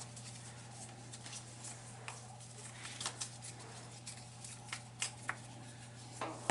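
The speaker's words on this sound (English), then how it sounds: "So shuffle these up." Warhammer Underworlds feature tokens shuffled by hand on a table, a soft scattered clatter of small clicks and taps that comes and goes over a steady low hum.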